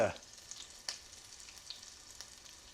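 Pork-rind-breaded shrimp frying in bacon grease, a soft steady sizzle with faint crackles and one sharper pop near the start, fairly quiet and with no voices.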